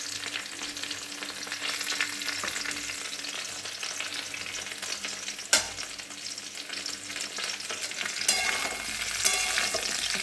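Vegetables fry in hot oil in a kadai wok, a steady close sizzle broken by a few sharp stirring scrapes and clacks.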